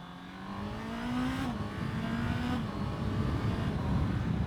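A 2024 Honda CBR650R motorcycle engine revs, its pitch climbing through two quick upshifts with a brief automatic throttle blip at each change, loud and close under a steady rushing road and wind noise.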